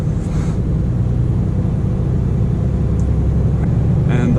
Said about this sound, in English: The refrigerator, it's really loud on this truck. It's right up here, so it's very loud.